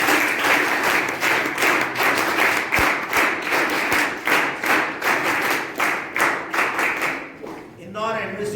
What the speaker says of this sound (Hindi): एक बार सब आप लोग अपने लिए ताली बजाएं।